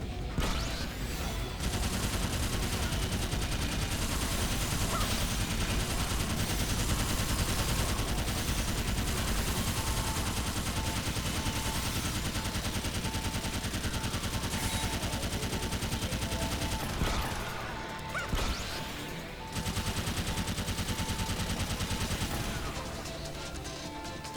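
Continuous rapid automatic fire from the World's End gun in Sword Art Online: Fatal Bullet, a dense, loud, unbroken stream of shots with mechanical clatter, briefly pausing before resuming.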